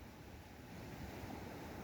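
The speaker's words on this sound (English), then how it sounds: "Look at that, peeps. Look at those waves." Large sea waves pound the shore in stormy, hurricane-like weather in Jamaica, a dense continuous roar of surf mixed with wind, swelling slightly in loudness.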